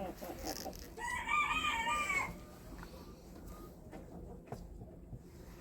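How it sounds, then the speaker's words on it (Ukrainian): A chicken in a poultry enclosure gives a brief run of clucking and crowing-like calls early on, then goes quiet, leaving faint low background noise and a few soft knocks. "Курочка зайшла"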